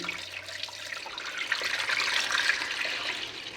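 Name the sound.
cold water poured into a pot of eggs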